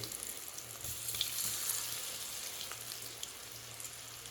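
Cauliflower chilli pieces frying in oil, a soft, even sizzle and bubbling that holds steady and fairly quiet from start to finish, with no talking.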